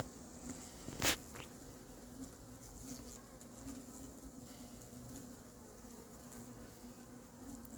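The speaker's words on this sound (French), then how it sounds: "Voilà, typique le frelon en vol stationnaire." A hornet hovers in place beside a beehive at an apiary, its steady buzzing hum faint under outdoor insect drone, with one sharp brief click near the start.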